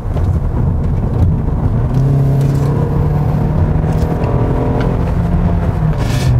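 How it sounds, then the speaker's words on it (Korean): A Kia K7 2.5 GDI engine hums while driving at speed, a steady mid-pitched drone with road rumble from inside the cabin, continuous and fairly loud without talking. "엔진이 많이 조용해졌어요."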